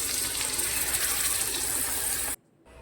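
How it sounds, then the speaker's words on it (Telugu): A steady, close gush of water pours into a pan of stuffed brinjal curry cooking in oil for about two seconds, then stops abruptly, leaving quiet kitchen background. "వాటర్ వేసుకుందాం."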